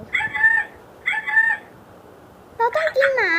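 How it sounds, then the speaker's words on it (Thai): Chicken calls from a feeding video game, heard as two short, bright, rising clucks with a gap, then a third longer, warbling squawk, loud and close with no talking. "เสียงไก่แล้วนี่เว้อ"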